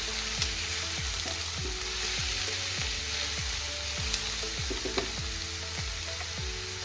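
Onion and garlic frying in a pan, a close, steady crackling sizzle with a regular series of stirring scrapes and clicks about every half second, no voices.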